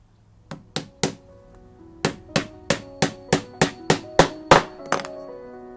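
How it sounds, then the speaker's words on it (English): Small hammer driving brad nails into hardboard, about a dozen sharp close taps, three spaced strikes followed by a steady quicker run of blows. "I'm going to put some brad nails into it"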